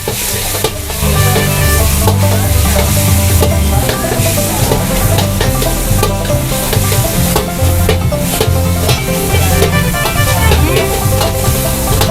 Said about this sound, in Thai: พริกกระเทียมลง แล้วตามด้วยหมู สับกับหมูทิ้นเลยครับ